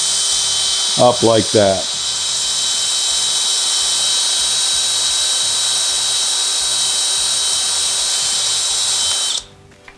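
A power drill whines steadily while boring into a vent window part of a Volkswagen Beetle, a close, loud, continuous high-pitched motor drone that stops abruptly near the end; someone speaks briefly early on.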